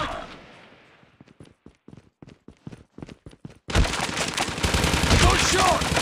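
Gunfire in a Call of Duty Warzone Gulag match: a sequence of sharp, evenly spaced single shots, then a sudden loud burst of sustained firing and noisy game action.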